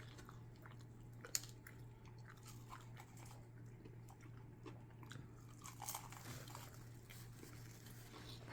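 Crunchy Cajun fried chicken skin from Krispy Krunchy Chicken is bitten and chewed close by, faint irregular crisp crunches and mouth sounds over a low steady hum.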